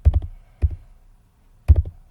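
Three short bursts of clacking keystrokes on a computer keyboard while a system reboot command is entered, each cluster of taps close and crisp with quiet gaps between them.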